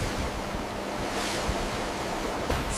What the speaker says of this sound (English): The ship sailing into the sunset on the open ocean